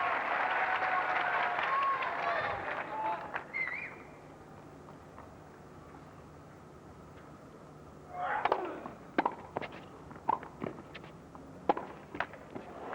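Tennis crowd at the Australian Open applauding and calling out, a burst of clapping and cheers at the start, then quiet with scattered claps and a renewed short round of applause near the end.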